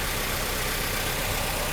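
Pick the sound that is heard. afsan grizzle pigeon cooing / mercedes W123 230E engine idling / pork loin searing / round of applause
mercedes W123 230E engine idling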